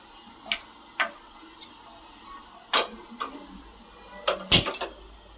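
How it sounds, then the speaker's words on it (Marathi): A gas stove igniter clicks about six times at uneven intervals, sharp and close, beside a kadhai holding a glass of water on the burner. "आता तुम्ही गॅस चालू करायचा आहे"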